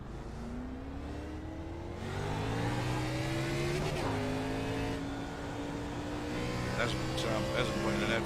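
Xfinity stock car lapping Kansas Speedway in the iRacing sim, a loud steady engine drone with rising revs and gear shifts, and someone talking over it.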